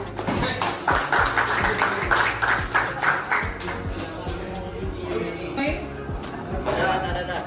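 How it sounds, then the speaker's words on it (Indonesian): A classroom audience claps after a student group finishes its chemistry presentation on benzene. The clapping is bright and spattery, with people talking over it and loudly, and it eases off toward the middle before picking up again. "Tepuk tangan."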